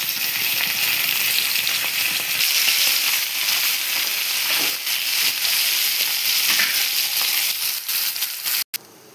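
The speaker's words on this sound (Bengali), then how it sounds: "মাছগুলো এক পিঠ ভাজা হয়ে গেছে, আর এক পিঠ উল্টে নিব ভালো করে।" Fish fry in white oil in a pan, a dense, bright, continuous sizzle that holds steady throughout with a few faint clinks, ending in a sudden break.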